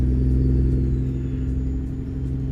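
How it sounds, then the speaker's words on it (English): Caterpillar diesel engine of a truck in American Truck Simulator, a steady loud low rumble with a constant droning hum that eases slightly across the stretch, no voices. "The cat engine."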